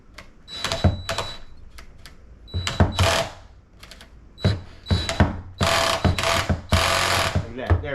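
A torque screwdriver set to a low setting clicks repeatedly while subwoofer driver screws are tightened during a driver swap on a REL 1508 Predator home theater subwoofer, giving sharp, close mechanical clicks and ratcheting bursts in uneven groups.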